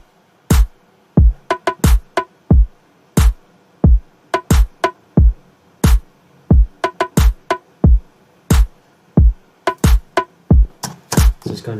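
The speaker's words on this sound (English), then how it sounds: "It's actually the entire drum pattern. It's made up of kicks, claps, rims, and some other percussion sounds." A programmed electronic drum pattern of kicks, claps, rimshots and other percussion runs alone in a steady looping groove, with punchy low kicks and sharp, crisp hits in between.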